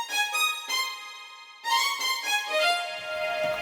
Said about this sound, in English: there are some cool presets you can choose from